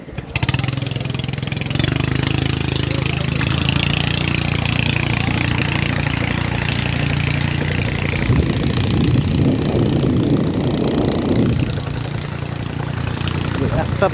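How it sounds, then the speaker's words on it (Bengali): A small Burmese-made engine drives a wooden boat in the hills of Bandarban, running with a steady, loud, close chugging drone that holds from start to finish. "ইঞ্জিন চালাইতে নৌকা, বার্মিজ ইঞ্জিন, এগুলো নাকি মায়ানমার থেকে আসে।"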